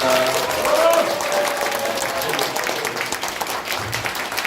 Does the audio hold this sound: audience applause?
yes